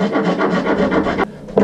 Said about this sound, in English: Little tool I've always liked is a little switchblade device that holds reciprocating saw blades.